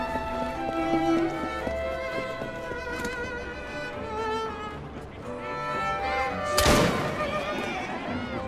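Gunfire rings out during play of Assassin's Creed Syndicate, a few sharp shots and thumps that stand out over layered game music and ambience, with one loud burst near the end.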